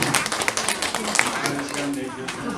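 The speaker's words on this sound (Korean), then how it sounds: "감사의 축복의 박수를 드립니다" A Korean church congregation gathered for a Thanksgiving service claps in thanks for a guest lecturer, brisk scattered claps fading into a murmur of voices.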